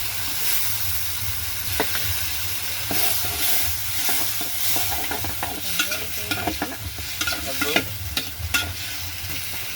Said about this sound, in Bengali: মাছটা এখন আমি কষাবো।